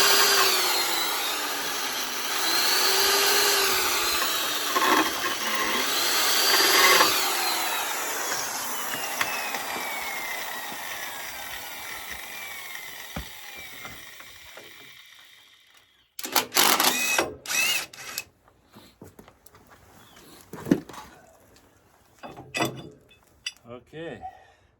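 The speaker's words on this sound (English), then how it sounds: "Now I'll just drill all 3 of the small holes." A cordless drill whines and winds down over several seconds, followed by short bursts of drilling and clattering handling noises.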